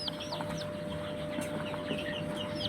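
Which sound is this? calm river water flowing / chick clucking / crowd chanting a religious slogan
chick clucking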